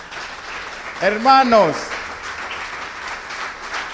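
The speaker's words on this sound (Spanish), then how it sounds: "Denle un aplauso al Señor." A church congregation applauds during a Spanish sermon, a steady wash of clapping running under a preacher's raised voice, continuous throughout.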